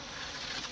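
A dense, steady insect buzz fills the short moment, many captured bees droning together close by inside a bee vacuum bucket, with no voices.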